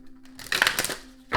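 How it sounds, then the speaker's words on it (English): A tarot card deck is broken up and shuffled by hand, a short burst of riffling and slapping card sounds close up, ending with one more quick flick. "let's break up this deck and get a good mix of the shuffle"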